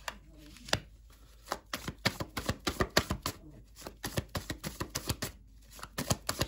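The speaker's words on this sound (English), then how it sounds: "I'll pull out three cards for the Eight of Cups energy." Tarot cards are shuffled and pulled, a close, quiet run of crisp riffling slaps and snaps in irregular clusters, with brief pauses between.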